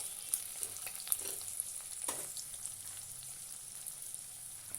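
Chopped onion frying in mustard oil with garlic for a loitta shutki dried-fish bhuna gives a steady sizzle, with sharp spatula taps and scraping stir strokes near the start; nobody speaks.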